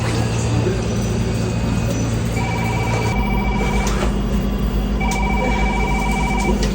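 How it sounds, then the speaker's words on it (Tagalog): A telephone rings out as a call is placed, with repeated electronic ringing tones pulsing over a loud, noisy background hum and a low murmur. "Tawagan ko si Blandina."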